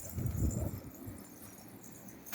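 Domestic pigeons in a loft coo in soft low bursts, loudest early on and fading into quieter rustling, with a brief sharper sound at the very end.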